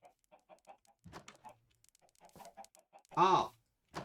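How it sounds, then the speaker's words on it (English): Minecraft chickens clucking inside a chicken coop: scattered short clucks and peeps, with a louder burst of clucking near the end, close by and without talk. "that is a chicken coop"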